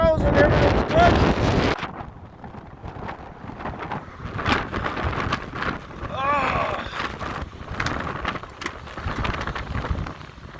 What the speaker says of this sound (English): That's the wind, I don't know if you can tell or not.